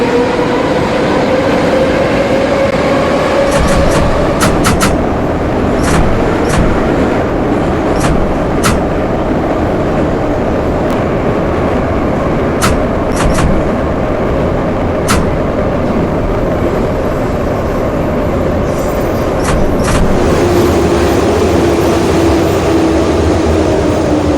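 A metro train runs on line M2 in the Kyivmetromasters simulation game, a loud continuous rumble of wheels on track. Scattered sharp clicks of rail joints sound over it, and a tone rises and falls gently as the train moves.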